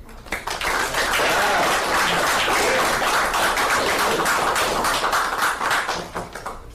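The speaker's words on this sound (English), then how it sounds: "let's give her a round of applause for having a year" Members of a recovery support group meeting give a round of applause, loud close clapping with distinct individual claps rising quickly and sustained throughout.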